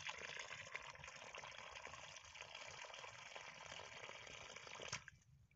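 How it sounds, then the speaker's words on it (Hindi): Water gushes steadily from the outlet pipe of a 12V DC solar-powered irrigation pump, a broad continuous rush that holds even for about five seconds before suddenly dropping away to near quiet. "आपको पानी इतना दे रहा है हमारा मोटर।"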